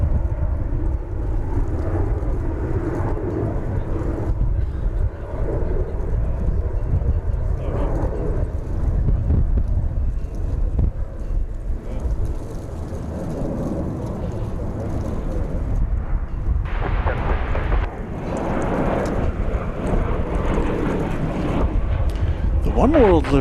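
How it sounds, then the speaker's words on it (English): A Bombardier Challenger 300 business jet taking off at Dallas Fort Worth airport, heard as a broad, steady engine roar from a distance that swells near the end, with outdoor wind noise throughout. "About to take off is a Bombardier Challenger 300."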